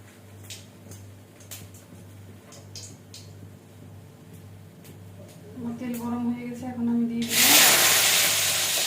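Cumin seeds hit hot oil for tempering, a sudden loud, broad sizzle that bursts in near the end and keeps crackling, after a quieter stretch with a low hum and faint clicks.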